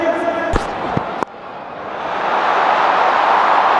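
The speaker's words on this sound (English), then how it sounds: "A lot of noise today in this crowd." A large cricket stadium crowd at the 2025 RCB versus Punjab Kings final roars, a broad wash of cheering that swells steadily louder, with a few sharp knocks and a brief voice early on.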